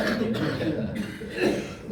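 A cough rises from the audience during an Islamic Qur'an commentary lecture on Al-Fatihah in a hotel prayer room, a brief rough burst near the middle amid a faint room murmur with no clear speech.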